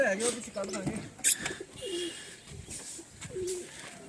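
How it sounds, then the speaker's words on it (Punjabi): Pigeons at a village loft give several low, rolling coos, close by and repeated, while people talk nearby. "ਆ ਦੇਖੋ ਕਬੂਤਰ"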